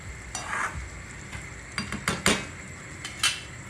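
A spoon stirring vegetable curry in a pot, a soft simmering sizzle punctuated by several distinct metallic scrapes and clinks against the pot, close by and without speech.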